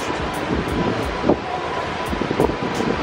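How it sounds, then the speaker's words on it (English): Wind blowing hard on a downtown city street, a steady roar buffeting the microphone with a few brief gusty bumps. "it's really windy."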